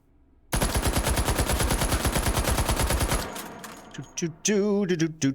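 Fully automatic burst from an H&K UMP 45 submachine gun in .45 ACP fitted with a muzzle brake in the VR game H3VR: rapid, loud, evenly spaced shots for almost three seconds, followed by metallic clatter and handling clicks.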